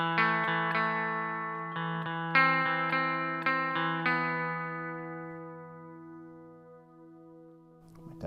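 An electric guitar played through a Mad Professor Kosmos reverb pedal with pre-delay picks a few chords and notes, each attack followed by a long shimmering tail that fades slowly before a final thump.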